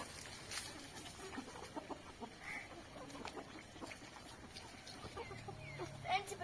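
Chickens cluck and chatter faintly in the background, with scattered bird calls and light outdoor noise throughout.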